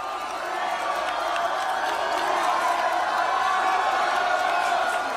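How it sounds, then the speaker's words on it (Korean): A rally crowd of Geoje citizens at a Korean presidential campaign event applauds and cheers as guests leave the stage, a steady wash of clapping and voices under a faint announcer's voice. "큰 박수 부탁드리겠습니다."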